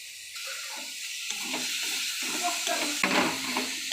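Spice paste with turmeric and salt fries and is stirred in a pan for a fig and potato curry, producing a close, continuous sizzle with rough scraping movements throughout.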